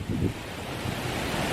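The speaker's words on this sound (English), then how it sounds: "The wind is really blowing really hard through here." Strong wind gusting hard through big trees at night in the barrens of central Nassau, a steady loud roar with rushing gusts and some buffeting against the microphone.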